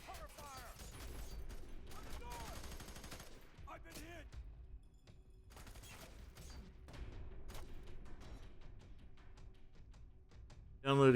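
Gunfire in the first-person shooter video game F.E.A.R. 3, with repeated rapid shots and mechanical clatter over a steady game soundtrack, some scattered voice-like sounds, and a sharp loud burst at the very end.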